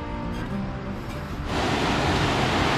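River water rushes below waterfalls on Mount Rinjani, a broad, steady roar that begins moderate and swells louder halfway through, continuous and close.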